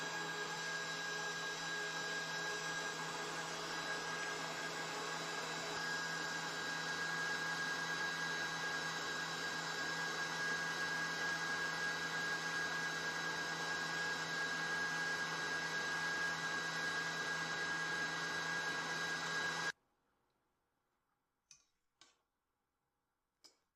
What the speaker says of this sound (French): Montez les blancs en neige à haute vitesse pendant 2 minutes.